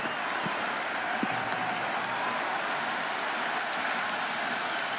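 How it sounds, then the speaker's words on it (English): Dense, steady roar of a cricket stadium crowd cheering and applauding after a lofted shot in an IPL match between Mumbai Indians and Kolkata Knight Riders, loud and continuous throughout with no voices standing out. "It's evident and ever so audible that the crowd is at near bursting point at today's play."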